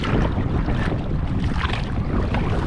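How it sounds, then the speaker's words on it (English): Strong wind roars across the microphone while sailing a slow-moving boat, a constant loud buffeting rush with water sounds underneath and no pauses. "It doesn't matter what way I go, the wind is against me."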